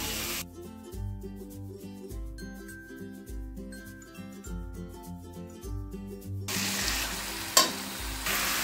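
Marinated mutton goes into spiced oil. A soft steady frying sizzle sits under louder tonal music for most of the stretch, then a bright burst of sizzle rises near the end, with a clink.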